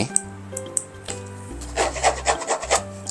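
Fine woven fabric upper of an Xtep FiveSpeed 3.0 running shoe rubbed close up, giving soft scratchy strokes that grow into a quick run of rasping brushes, with no talking.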